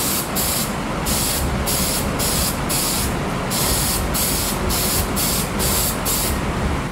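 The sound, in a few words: spraying contact cement onto leather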